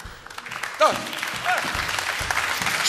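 Audience applause at a concert, a steady dense patter of clapping held throughout at moderate level, with a few voices and whistles rising briefly above the crowd.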